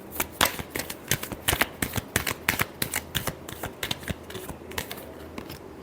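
Tarot cards are shuffled by hand in a string of crisp, rapid riffles and slaps, close and fairly loud, with brief pauses between bursts and no talking.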